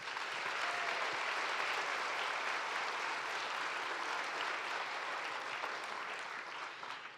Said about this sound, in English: so let's please give them a round of applause